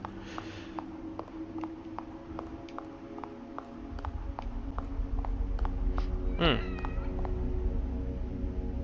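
A cat meows once in the horror video game The Evil Within, a short clear call rising above a steady low game ambience with faint rhythmic clicks.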